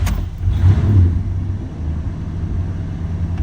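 1948 Plymouth Coupe engine catching and settling into a deep, loud rumble close by, a brief rev swell early on, then a steady low idle.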